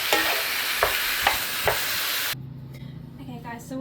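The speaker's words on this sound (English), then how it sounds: "just brown off our beef, onion and bacon" Beef, onion and bacon browning in a pan, a loud broad sizzle with a few sharp scraping stirs, then the frying drops away to a quieter hiss for the last second and a half.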